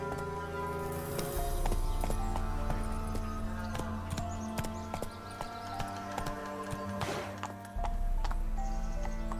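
Roach the horse trots along in The Witcher 3, steady hoof clip-clops on the ground under a soft rain-like patter and low ambient game music.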